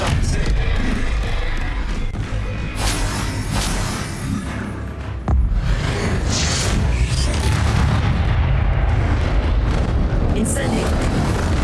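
Confringo blasting-spell explosions in Hogwarts Legacy, heavy booming blasts and rumbling bursts running continuously and loudly throughout, with a voice talking over them.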